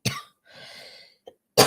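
A person coughs sharply, then gives a softer, breathy follow-up and a small catch before one last loud cough, all close and clear in an otherwise quiet room.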